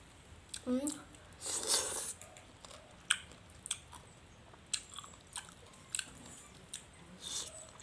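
Chicken feet in a pounded spicy salad are chewed up close, giving quiet crunchy bites and wet squishy mastication in irregular bursts.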